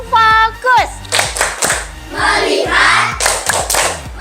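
A class of children performs the rhythmic 'tepuk fokus' clapping chant in a school, with sharp patterned claps in groups alongside chanting young voices and an adult voice at the start.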